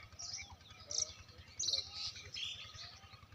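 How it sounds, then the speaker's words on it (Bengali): Common mynas call from near a rice field beside a pond in the morning, giving repeated bright chirps and chattering notes in short bursts over a low steady background hum. "সব দিক শালিক আর শালিক।"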